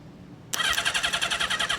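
A 1976 Honda CB550 motorcycle engine catches suddenly after a short quiet pause and settles into a loud, rapid, even idle of close pulsing firing beats.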